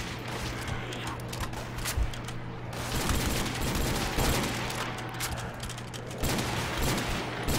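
Gold Desert Eagle fired in Call of Duty: World at War on a custom zombies map, Dale's Dock; sharp gunshot bursts recur over a dense bed of game noise.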